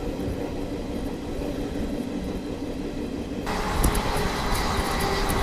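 Train 17004, the Balharshah–Kazipet Ramagiri Express, is running past with a continuous broad rumble. Partway through, the rumble turns louder and harsher with rattling clatter, and no one speaks.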